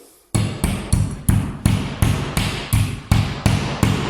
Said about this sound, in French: Une fois que vous avez fait le trou assez grand, vous prenez un marteau